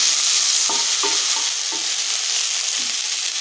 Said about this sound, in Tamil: நல்லா வதக்கி எடுத்துக்கணும்